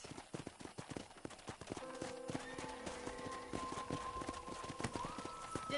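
Rhythmic clip-clop of horse hooves on hard ground in the video game Red Dead Redemption, steady trotting beats with sustained musical tones and a faint horse whinny in the background.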